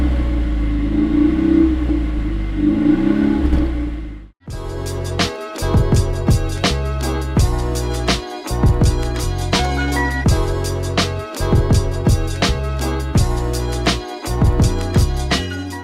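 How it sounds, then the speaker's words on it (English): A 2017 Cadillac ATS-L with a 2.0-litre turbo engine is started by push button. After a low rumble the engine catches and runs, rising and falling through several close, loud revs with brief dips between them. "now you just put your foot on the brake and hit the push button to start"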